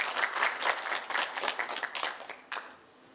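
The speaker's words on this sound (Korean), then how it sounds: "정슬기님 박수로 맞이하겠습니다" An audience applauds to welcome a speaker at a volunteer ignite talk event in Sejong, a few seconds of steady crowd clapping that fades away at the end.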